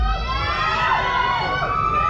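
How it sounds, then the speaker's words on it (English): A crowd of girls at a dance contest screams and cheers for the next contestant, a dense sustained high-pitched roar filling the hall for a couple of seconds. "all the girls scream right now!"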